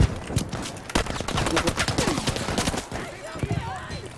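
Rapid bursts of in-game gunfire in Battlefield 5, dense and overlapping with crackling shots and impacts, while players talk excitedly over the action.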